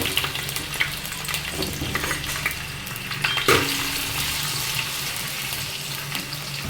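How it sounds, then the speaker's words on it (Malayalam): Close, crackling sizzle of ginger, green chilies and garlic frying in a hot pan, with a brief clatter of stirring near the middle and a steady hiss throughout. "ഇഞ്ചി, പച്ചമുളക്, വെളുത്തുള്ളി ഇത്രയും നമുക്ക് അതിലോട്ട് ഇട്ട് കൊടുക്കാം."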